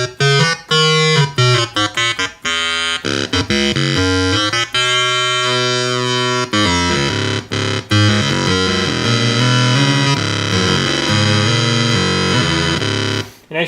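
ARP Odyssey 2810 synthesizer with two oscillators playing together in euphonic mode, a buzzy, bright tone sounding a series of staccato notes and sustained pitches, alternating short bursts and longer held tones.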